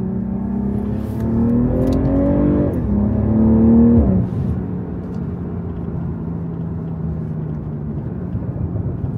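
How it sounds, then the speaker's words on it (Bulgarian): A BMW M340i engine howls under full-throttle acceleration, its pitch climbing steadily through two gears with a brief shift dip, then settling to a lower sustained drone after easing off. "момента сме дали пълна газ, колата изобщо не ни поддава"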